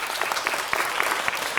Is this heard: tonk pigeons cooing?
no